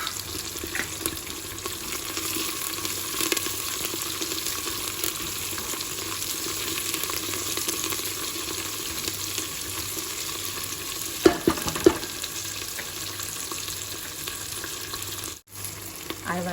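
Curry leaves and coriander sizzle in hot tadka oil, a steady close crackling hiss through the whole stretch with a few brief stirring clatters near the end; no one talks.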